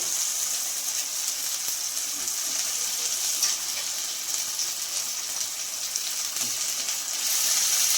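Washed bone-in chicken pieces frying in hot oil in a home kitchen while making chicken handi, a steady loud hiss and crackle of sizzling that continues evenly, close up with no voices.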